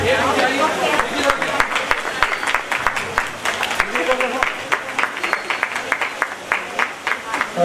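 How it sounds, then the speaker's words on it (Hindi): Audience clapping during a welcome ceremony at a religious tableau event, dense and steady with crowd murmur and voices mixed in throughout. "जोरदार तालियों के साथ।"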